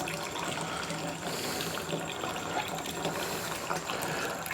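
Liquid being drained off a cornmeal bourbon mash, a steady, full wash of running and gushing water close by, continuous with no pauses.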